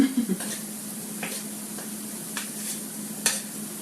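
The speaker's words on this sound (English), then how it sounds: "we're gonna just saute that for a little bit" Food sautéing in a cast iron pan while preparing zuppa toscana, a steady low sizzle with a few soft scraping stirs and light clicks of a utensil against the pan, close and fairly quiet with no talking.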